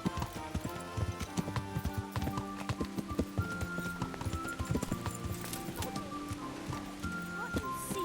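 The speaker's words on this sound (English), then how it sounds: "That horse of yours." Horse hooves clip-clopping steadily on the ground in Kingdom Come: Deliverance, a brisk close rhythm of clopping steps with voices talking over it.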